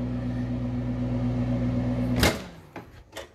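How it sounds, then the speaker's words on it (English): A microwave oven on high cooking two eggs in olive oil hums steadily and loudly, then cuts off with a sharp clunk, followed by a couple of brief clicks and rattles. "Two eggs, 2 minutes on high."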